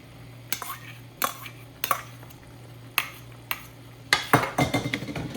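Tomato puree goes into hot oil in a pan while it is being cooked for chole. A metal spoon knocks and scrapes against the pot several times, and then a burst of clattering stirring follows, under a low steady hum.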